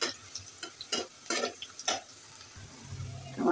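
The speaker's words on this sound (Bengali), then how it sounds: "পেঁয়াজটাকে ভালো করে নাড়াচাড়া রাখতে হবে, না হলে এক সাইড পুড়ে যাবে আর এক সাইড ভাজা হবে না" Onions frying in a pan are stirred with a spoon, giving repeated scraping strokes at an uneven rhythm over a soft, steady sizzle, close and fairly quiet.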